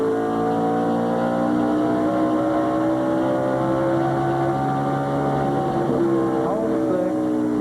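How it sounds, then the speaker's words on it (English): A stock car engine at the 1999 Dura Lube Big Kmart 400 revs loud and steady through a corner, its harmonic drone holding pitch and then dipping briefly as the throttle comes back up. "About as clear as you can hear a motor run."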